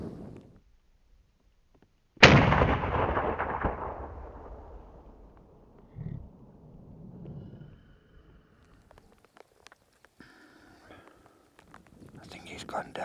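A single loud rifle shot cracks during an African big-game hunt for Cape buffalo, ringing and decaying over a couple of seconds in open country, followed by quiet whispered talk and small rustles.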